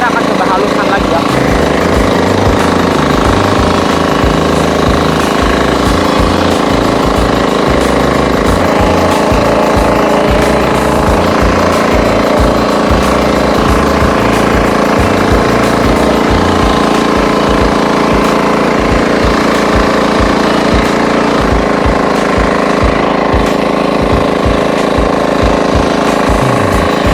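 A Firman FTI2010DE mini four-wheel tractor tills a dry field, breaking up large clods. Its engine gives a loud, continuous, rapidly pulsing chug with a rattling beat throughout, close by and heard without any speech.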